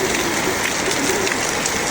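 Steady rain falls on surfaces outdoors with no wind, a dense, even hiss of drops throughout and no voices.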